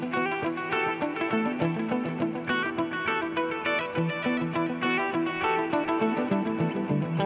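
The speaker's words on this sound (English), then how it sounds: "Now I have both delays on." Electric guitar through a Fractal Audio rig with stereo delays, dotted-eighth on one side and quarter-note on the other, playing busy chords and notes that smear into dense, echoing repeats, loud and continuous without talk.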